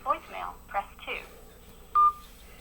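A single telephone keypad tone sounds after an automated phone menu voice, one short clear beep near the end following the spoken prompt.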